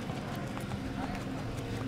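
A ridden donkey walks in Mauritania, its hooves clip-clopping in a steady stream, close and fairly clear over a constant rough outdoor background.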